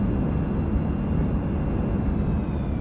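AJS-37 Viggen jet engine in DCS, on the runway after touchdown during a thunderstorm: a steady, loud, close roar of rushing engine noise that holds unchanged throughout.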